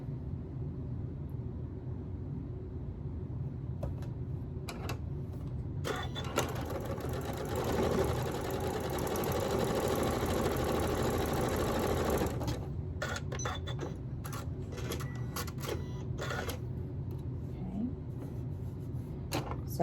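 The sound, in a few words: sewing machine sewing quilt block center pieces together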